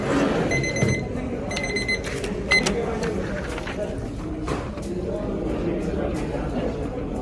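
A heat press timer at a printing expo sounds repeated bursts of high electronic beeps, several short series in a row, over busy crowd chatter and nearby talk.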